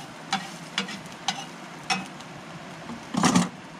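Egg casserole cooking in a hot cast iron skillet at a camp stove, with a soft sizzle under several sharp utensil taps and scrapes, ending in a louder clatter, close up and without talk.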